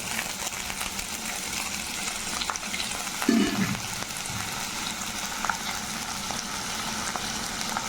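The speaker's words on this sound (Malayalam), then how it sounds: "ഇഞ്ചി ബ്രൗൺ കളർ ആവണവിടെ ഒന്ന് നന്നായിട്ട് ഇളക്കി കൊണ്ടുപോകും" Chopped ginger and curry leaves frying in two tablespoons of oil, a steady close sizzle with a brief scrape of stirring partway through.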